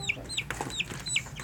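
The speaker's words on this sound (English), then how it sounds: "Our chicks are a little excited today" Young chickens cluck and peep in quick, excited bursts, several short high calls spaced through the moment, close by with faint outdoor background.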